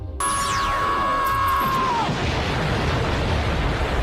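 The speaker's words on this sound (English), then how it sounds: "This is the explosion SpongeBob uses" A cartoon explosion effect from SpongeBob SquarePants, opening with a whistling tone that slides down in pitch, then a big sustained roaring blast of noise that rumbles on loudly to the end.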